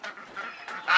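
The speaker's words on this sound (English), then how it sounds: "The birds always tend to get quite hyper before breakfast comes" Farmyard birds, geese or ducks, honking and quacking excitedly in a short, close burst of overlapping calls on a crisp morning before breakfast arrives.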